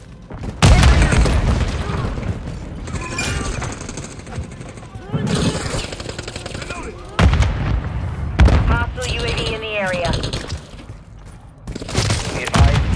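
Grenade explosions in Call of Duty Modern Warfare III, several loud booming blasts amid heavy gunfire, with in-game soldiers shouting over the battle.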